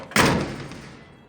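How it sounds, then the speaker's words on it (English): A car door on a 1948 Chevy Fleetline station wagon swings shut with one solid, close slam, its thud ringing briefly and fading out with no talk over it. "the door is still open and closed very nice"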